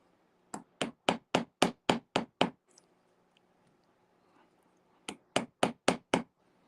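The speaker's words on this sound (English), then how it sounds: "I'm going to hammer that." A steel texture plate laid over a copper washer is struck with a hammer: a rapid run of about eight sharp metallic blows, a pause, then another burst of six, loud and close.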